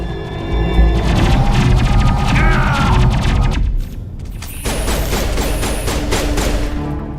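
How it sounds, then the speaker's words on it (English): Loud, dense gunfire in the Mass Effect video game as shots rip into a rock, with rapid bursts of firing, impacts and debris crashing through the whole stretch and a brief lull midway. "Oh, you're shooting out the rock."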